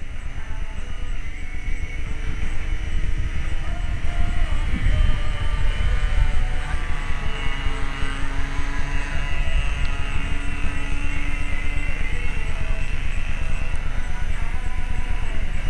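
Combat Airmadillo 40 RC model airplane with a small glow-fuel engine, buzzing steadily as it flies past, low-running on fuel, with a continuous droning whine throughout and no talk.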